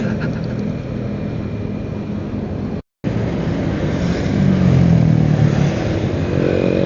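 A motorcycle rides along Jalan Jenderal Ahmad Yani in Cicadas, its engine a steady loud drone that swells as it accelerates, with one brief cut in the middle.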